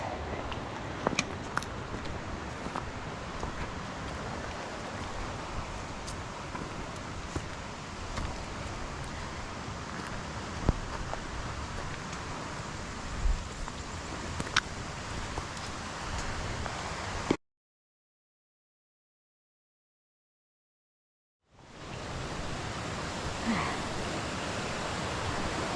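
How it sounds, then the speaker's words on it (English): A mountain stream tumbles over rocks on a hike above Lake Como, a steady broadband rushing wash heard from nearby that runs continuously, breaks off into silence for a few seconds, then resumes. "like water tumbling over rocks"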